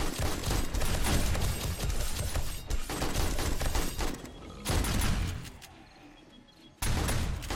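Rapid bursts of gunfire in 7 Days to Die as players shoot at zombies during a horde night, dense volleys filling most of the clip with two brief lulls.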